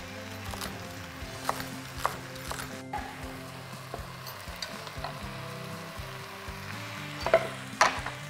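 Chopped vegetables, including cubed celery, cook in a pot for minestrone soup, giving a soft, continuous low sizzle broken by occasional scraping and clicking stirs, all quiet and close with no talking.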